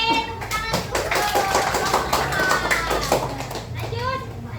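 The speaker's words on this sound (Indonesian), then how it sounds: "Oke, tepuk tangan untuk" Classroom of children clapping in a quick burst of scattered hand claps, mixed with lively kids' chatter and shouts at close range.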